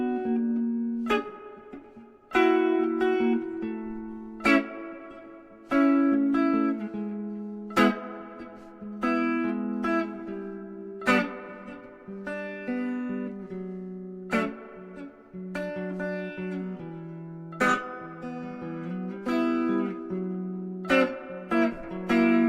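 Guitar strums a chord progression as triads with smooth voice leading, rhythmic chord strikes ringing out one after another, played solo with no talk.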